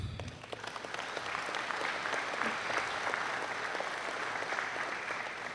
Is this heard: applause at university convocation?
yes